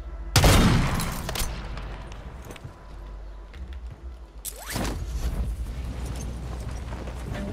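Sniper rifle fire in the Rebirth Island video game: two heavy, sharp shots about four seconds apart, each followed by a mechanical rattle and reverberating tail over steady background noise.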